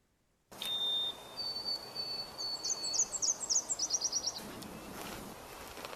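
Recorded birdsong plays through a speaker during an indoor birding presentation: a thin high whistle, then a run of rapid repeated chirps and trills over faint room noise.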